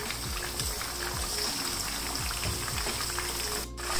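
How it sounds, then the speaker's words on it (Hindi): Chicken pieces fry in a pan over medium heat, giving a steady, dense sizzle and crackle that holds evenly throughout with no voices. "इसके अंदर मैं ये डालती हूँ चिकन पीस, और हमने इसको दरमियानी आग पे अच्छी तरह फ्राई कर लेना है"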